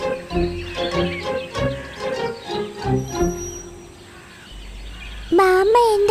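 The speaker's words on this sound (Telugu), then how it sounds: "ఈ కాకుల గోల నేను తట్టుకోలేకపోతున్నాను" Crows cawing in an animated children's story, a run of repeated harsh caws in uneven bursts, followed after a brief lull by a louder sustained tone.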